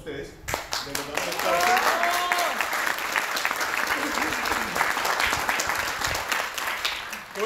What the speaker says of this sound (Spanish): Primeramente quiero pedir un aplauso para todos ustedes.